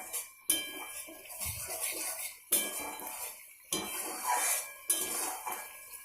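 Garam masala being stirred into paneer curry in a pan, four sharp metal clanks of a spoon on the pan spaced about a second apart, each followed by scraping stirring, with no talking.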